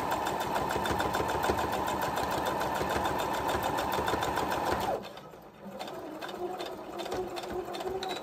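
A sewing machine stitching scraps of fabric, stitching back and forward with a steady fast whirring rattle for several seconds, then stopping, leaving a quieter mechanical hum.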